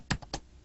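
Three quick, close keystrokes on a computer keyboard, evenly spaced and crisp, with no voices.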